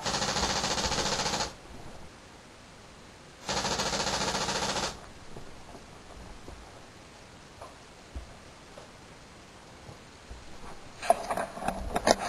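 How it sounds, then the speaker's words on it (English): A laser-triggered paintball gun fires in two sustained bursts of rapid shots, loud and close, separated by quiet handling noise, with a few sharp clicks and knocks near the end. "That is how you make a laser activated paintball gun."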